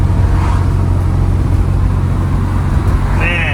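Steady low car engine drone while cruising on a road in upstate New York, a constant rumble with road noise throughout and no clear revving peaks, loud and close from inside the vehicle.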